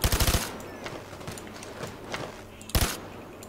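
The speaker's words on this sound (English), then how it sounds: "Why is my shooting weird?" Bursts of rapid automatic gunfire from the video game Payday 2 open and close a short stretch, loud and close, with quieter in-game thumps and clatter in between.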